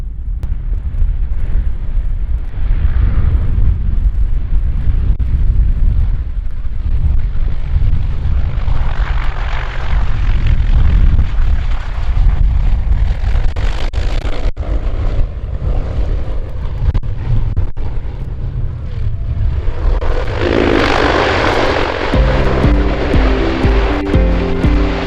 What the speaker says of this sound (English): Fairchild C-123 comes dangerously close to scraping a wingtip during a difficult crosswind